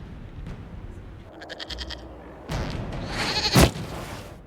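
In the Dragon Age Inquisition game, a goat lets out a short wavering bleat, followed by a louder burst of noise and a sharp thump, set against a low background hum.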